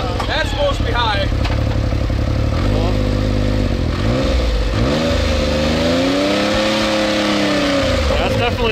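A 500hp Can-Am Maverick X3 UTV engine revs and rises in pitch, loud and close, while people talk over it.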